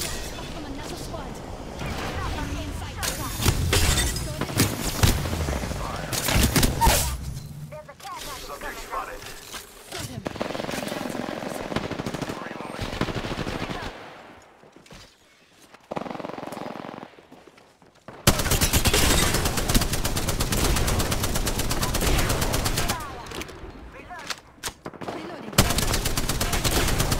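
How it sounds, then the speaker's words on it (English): Gunshots from another squad in the Apex Legends video game crackle in bursts amid other loud game sounds, with a quiet stretch partway through and a person talking over parts. "Those shots are from another squad."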